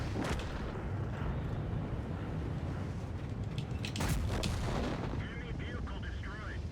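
A new Coccodrilo tank fires its cannon in a video game. The shot is a loud, broad blast over constant battle noise, with a heavier burst near the middle and a fading tail afterward.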